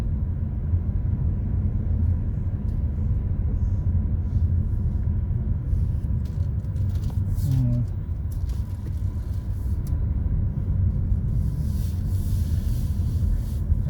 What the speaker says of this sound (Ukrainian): Зараз я їду на виїзд до воріт.